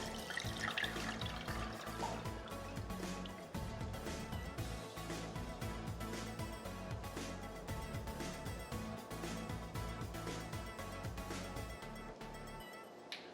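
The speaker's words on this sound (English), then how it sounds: "grab the bowl with the eggs and water and slowly pour" An egg and water mixture is poured slowly through a sieve into a bowl, making a steady, close trickle and splash that runs continuously with small drips and no speech.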